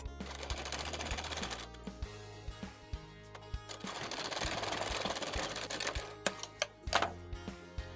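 A sewing machine stitches a lining along the neckline of a blouse, running in fast, close rattling bursts with short pauses and a few sharp clicks, fairly quiet and without talk.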